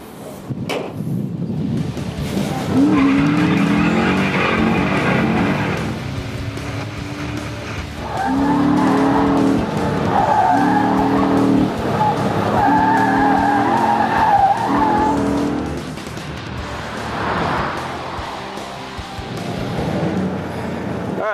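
A car engine revs hard and rises and falls through gear changes as it circuits a track, with tires squealing in bursts, loud and close.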